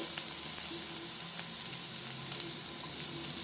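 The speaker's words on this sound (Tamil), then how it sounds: "இதில் இந்த ஆனியனை போட்டுக்கோங்க. வெங்காயத்தை போட்டுட்டு" Onion sizzles in hot oil with fenugreek and dried chili, a steady close frying crackle that runs unbroken with a few sharper pops, no voices.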